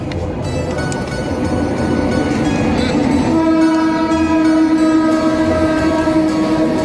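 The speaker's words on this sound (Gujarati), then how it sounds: "ટ્રેન આવી ગઈ." A train pulls into a railway station in Gujarat, its horn sounding in long sustained tones over the steady rumble and clatter of rolling wagons, loud and close throughout.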